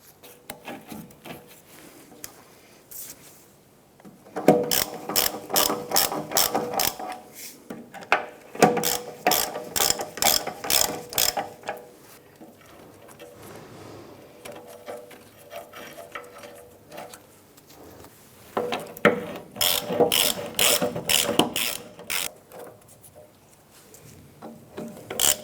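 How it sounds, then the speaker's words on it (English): A ratchet tightens bolts on the skid plate of a 1997-2006 Jeep Wrangler during a transmission mount replacement, with loud, close bursts of rapid clicking in three separate runs and quiet pauses between them. "Let's go ahead and install the other 4 bolts on the skid plate."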